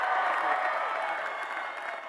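A loud graduation commencement crowd fills the space with steady, dense applause and cheering that holds for a couple of seconds before easing slightly.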